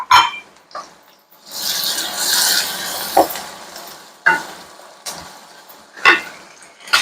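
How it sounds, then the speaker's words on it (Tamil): Finely chopped onions added to a pan with fried urad dal and stirred while cooking, with soft sizzling, scraping and a few sharp knocks of a spoon against the pan, close and without talk. "நல்லா பொடி பொடியா நறுக்கி வச்ச பெரிய வெங்காயத்தை சேர்த்துக்கலாம்"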